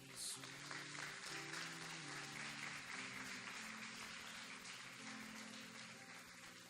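Congregation at a Brazilian evangelical church service applauding, a steady broad wash of clapping sustained for several seconds, with organ or keyboard tones and murmured voices underneath.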